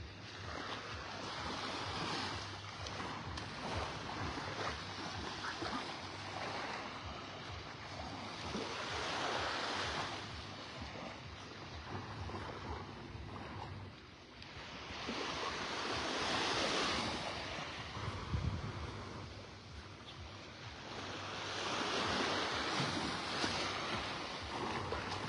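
Surf rolls in continuously on Vanderbilt Beach in North Naples, Florida, waves building and breaking in broad swells roughly every few seconds, with some wind rumble across the microphone and no voices.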